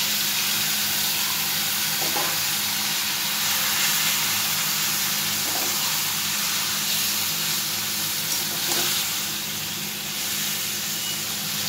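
Boiled taro leaves sizzle in a hot pan in a home kitchen, a steady, loud hiss and crackle that carries on without a break, with a few soft knocks from stirring.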